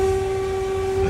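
A train rushes past with a loud, sustained horn blaring over a steady rumble of rolling wheels.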